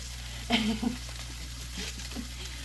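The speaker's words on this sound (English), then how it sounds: "so I can flip them over and get the other side seared" Meat searing in a very hot pan, a faint steady sizzle with a brief louder hiss and clatter of tongs as pieces are turned, under low background hum.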